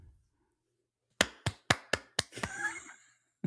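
Sharp, close hand claps ring out in a quick series of five or six evenly spaced strikes before a podcast recording, ending in a brief rustle and a faint voice.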